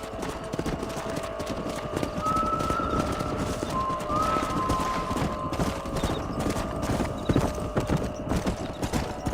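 Horses' hooves clip-clop steadily in the Red Dead Redemption video game, a close rhythmic clatter with brief whinny-like tones in the background.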